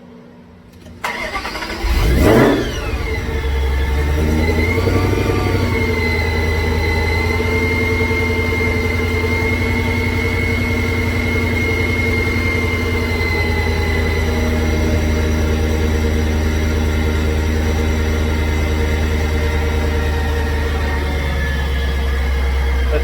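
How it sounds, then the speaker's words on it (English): After a repair, a car engine fires up with a short burst and then settles into a steady, even idle that runs smoothly and close for a long stretch with no ticking. "the car is running perfect right now"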